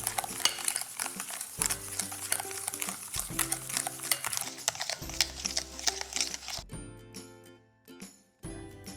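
Sugar being mixed into chocolate cake batter, a steady scraping and whisking rhythm with repeated strokes against a bowl under soft background music, with no talk.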